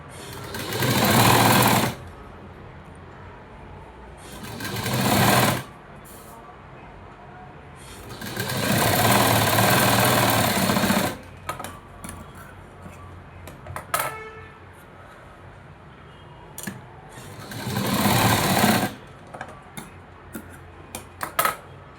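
A sewing machine stitches a patch onto a blouse sleeve in several loud runs of rapid mechanical whirring, separated by pauses with small clicks and handling noises, close by.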